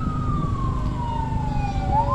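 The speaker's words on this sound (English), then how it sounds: "And I hear sirens." An emergency vehicle siren near a fire department wails steadily, its tone sliding slowly downward as it passes at a moderate distance over a low rumble of traffic.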